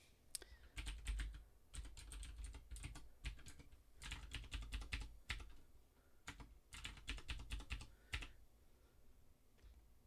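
Rapid typing on a computer keyboard while entering a made-up Wi-Fi password during setup of a Synology WRX560 router, with bursts of close, crisp keystrokes separated by short pauses.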